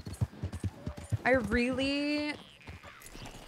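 Horse hooves clop in steady rhythm in the video game Red Dead Redemption 2, followed by a long, loud horse whinny, with a player talking over the footsteps.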